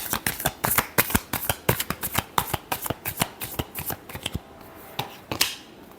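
Tarot cards are shuffled close up in quick, crisp riffling slaps with a steady rhythm that gradually slows and thins out toward the end.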